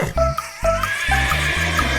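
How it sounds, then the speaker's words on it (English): A horse gives a loud, close whinny, several rising-and-falling neighing calls in quick succession lasting about two seconds, heard alone. "It's a horse."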